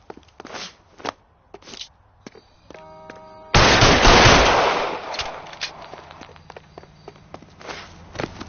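Gunfire in the video game LA Noire: several sharp, separate shots and snaps, then a loud sustained burst of fire that slowly fades, followed by more spaced single cracks.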